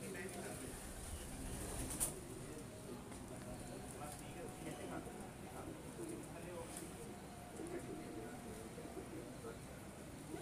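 Soft pigeon cooing in a low, repeated murmur at a pigeon-flying competition in Lahore, with people talking nearby over a busy background.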